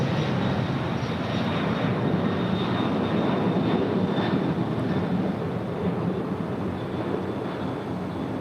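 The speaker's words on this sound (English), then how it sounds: "we do have the Coletta Air Queen in the face mask livery coming in from Anchorage" A Kalitta Air Boeing 747 in face mask livery arrives at LAX from Anchorage, a continuous, moderately distant rumble of jet engines with a faint high whine and no talk.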